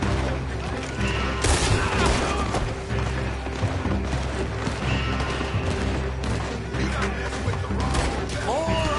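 Gunfire in the Western action game Red Dead Redemption 2, with repeated rifle and pistol shots and volleys popping near and far across a chaotic fight, mixed with shouting voices.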